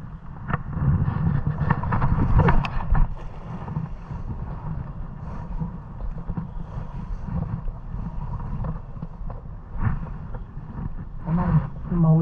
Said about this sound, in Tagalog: mahuli tayo sa sobrang lakas ng hangin